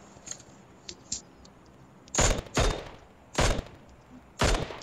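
Rifle fire in PUBG Mobile: a few faint clicks, then four loud, sharp bursts of gunshots, each a short volley, spaced about a second apart with quiet gaps between.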